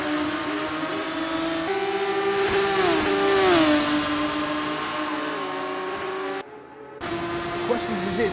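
Race cars in a sim racing game on the Bahrain Grand Prix circuit, a loud engine whine rising and falling through gear changes and revving, with tire squeal and a brief drop to near quiet, under a commentator's voice.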